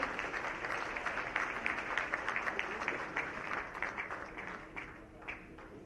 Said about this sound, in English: Let's have a huge round of applause for Mr. Piyush Goyal.